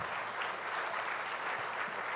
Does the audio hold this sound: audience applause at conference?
yes